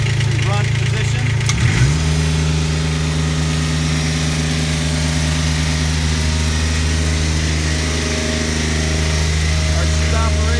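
A KM T-2 asphalt recycler's engine hums at idle, then steps up to high idle after a brief clunk and holds a steady, loud mechanical drone.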